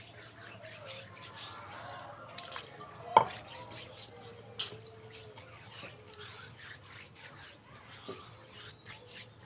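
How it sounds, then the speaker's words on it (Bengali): A traditional stone grinding slab is washed with water, soft dripping, splashing and scraping rubs heard faintly and close up, with occasional small knocks. "পাটাটা খুব ভালো করে পানি দিয়ে ধুয়ে নিচ্ছি"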